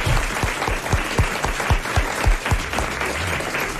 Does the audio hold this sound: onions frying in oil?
no